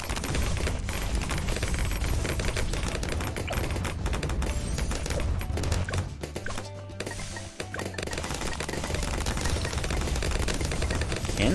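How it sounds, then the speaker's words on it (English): Cannon towers firing in the tower defense game Bloons TD 6, a dense, rapid rattle of overlapping shots and impacts mixed with game music, continuous and loud throughout. "Cannons are coming in pretty clutch."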